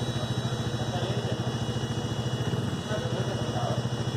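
A 2020 Bajaj Dominar 400 UG motorcycle idles with its cooling fan running after several minutes switched on, a steady, close pulsing engine beat with a constant whirring hum layered over it throughout.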